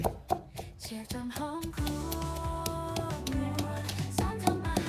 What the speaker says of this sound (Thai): เราจะโขกทุกอย่างเนี่ย ให้แหลกให้หมดก่อนเลยครับ